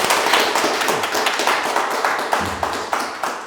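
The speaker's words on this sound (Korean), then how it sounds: "박수로 환영해 주십시오" An audience at a political lecture in Jinju, South Korea, claps to welcome a lawmaker to the stage, with distinct, fairly close hand claps forming a steady, moderately dense patter that lasts a few seconds.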